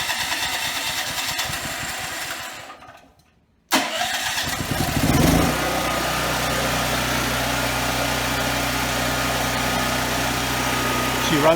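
A portable generator engine is pulled to a start, sputters briefly, then settles into a steady, loud running drone that continues alone to the end.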